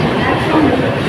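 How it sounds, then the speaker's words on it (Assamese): Local passenger train rolling past on an Indian railway: a dense, rumbling wash of wheel and carriage noise, close and loud, over a very short span. "ইফালে এখন ট্ৰেইন আহি আছে।"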